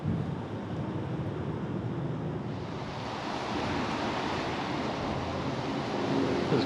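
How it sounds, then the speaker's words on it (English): Strong wind roars steadily and loudly, with a gusty, surf-like rush throughout and no talking. "It's crazy windy today."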